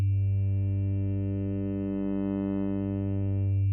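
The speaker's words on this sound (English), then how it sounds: "Out of the box it comes with a morphing wavetable oscillator that sounds like this." A Korg minilogue xd synthesizer plays a morphing wavetable oscillator tone, one sustained buzzy note rich in harmonics whose timbre slowly shifts and swells, loud and alone.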